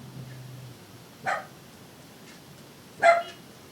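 Oz, a dog, lets out two short, separate barks a couple of seconds apart, somewhat distant and modest in level over a quiet background, with no talking.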